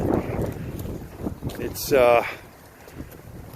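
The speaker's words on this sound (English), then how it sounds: "They got a bit of wind here today" Outdoor wind gusts buffet the microphone with low rumbling rushes that swell and fade, while a person talks throughout at a bee swarm capture site.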